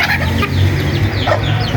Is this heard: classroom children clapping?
no